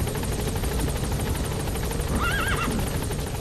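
A horse whinnies once in Metal Gear Solid V: The Phantom Pain, a short wavering neigh rising over the steady thrum of a helicopter's rotors that fills the whole stretch.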